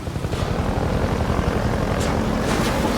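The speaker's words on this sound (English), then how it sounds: "But the helicopter's immortal." Helicopter from the Half-Life 2 video game, a steady close rotor drone with a dense low rumble that holds at even loudness for the whole stretch, with no talking over it.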